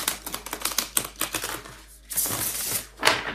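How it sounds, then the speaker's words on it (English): Crisp, rapid clicking and riffling of tarot cards being shuffled close up, in quick bursts with a brief pause before a final flurry. "And I shuffle a lot."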